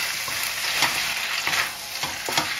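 Rice and tofu stirred in a frying pan, a constant close sizzle broken by several scraping strokes of the utensil at an uneven pace, with no voices.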